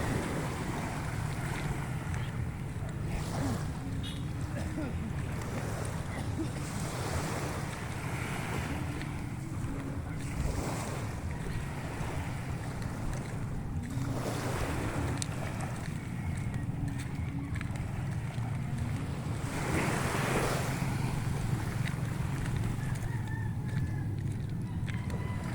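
Sea waves along a rocky shore beside a large rock, a constant roar of surf mixed with wind buffeting the microphone and a few louder surges, no one speaking.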